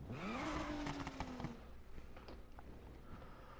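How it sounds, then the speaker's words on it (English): A beat-up car idles in Need for Speed Heat, a thin whistle rising then holding steady over the engine's rumble before fading into a softer, rougher drone. "You can hear a little whistling."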